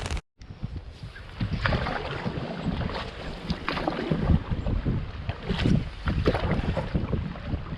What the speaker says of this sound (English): It's cold and it's extremely windy.